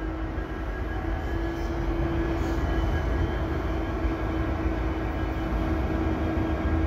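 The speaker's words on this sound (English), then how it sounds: "I believe there might be a train coming. Yes, there is. Another locomotive is coming." A CP freight train with a locomotive lashup approaches at Dorval, giving a steady low rumble with a sustained horn-like tone throughout, growing gradually without pause.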